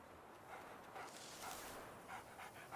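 A black dog in The Witcher 3 panting and giving soft whimpering yips, faint and close, in short repeated bursts with no talk over it.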